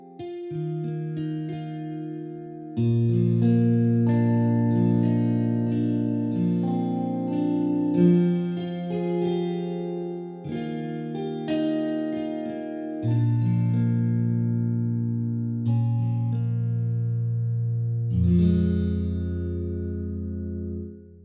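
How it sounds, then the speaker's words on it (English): Sustained piano chords ring out with a subtle plate-style reverb adding a light sense of space, the notes blending smoothly as they change. "The first one, the plate, is quite subtle when you don't crank the slider up."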